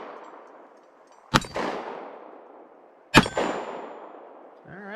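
A .45 ACP pistol fires Norma Hexagon ammunition outdoors: two sharp, loud shots about two seconds apart, each followed by a ringing echo that fades out.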